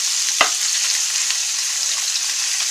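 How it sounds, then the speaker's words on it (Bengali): Large fish heads frying in hot oil in a pan, a dense continuous sizzle with one brief clink of a utensil near the start. "এভাবে একটু মাছের পাশটাও যাতে একটু ভাজা হয়"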